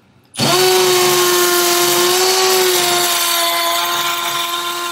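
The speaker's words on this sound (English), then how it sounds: "I'm using a masonry bit, specialized masonry bit with a hammer drill." A Milwaukee 12-volt Fuel hammer drill fitted with a masonry bit bores into masonry for an antenna coax run, starting abruptly and holding a loud, steady whining drone throughout with no talk.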